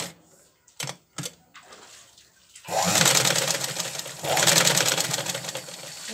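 Electric sewing machine stitching the seam of a soft cloth Santa Claus doll: a few short bursts of clattering stitching, then two longer steady runs of fast mechanical whirring, close and fairly quiet.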